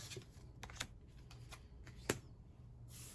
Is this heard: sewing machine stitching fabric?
no